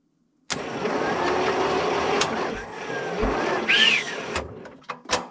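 A T-16 tractor engine being started: a sudden mechanical whir and rumble kicks in and runs steadily, with clanks and a squealing whine near the end, close and loud, no talk.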